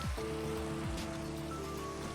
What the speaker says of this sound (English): God, this rain is pretty.